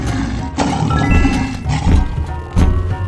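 A lion roars in a 3D animal slide game, a loud rough growling roar over continuous game music, with a couple of sharp accents punctuating it.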